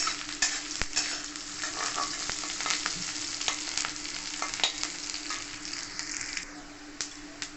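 Dried and green chillies frying in oil in a pan for an egg and potato bhorta, giving a continuous close sizzle with frequent sharp clicks and spatters from stirring.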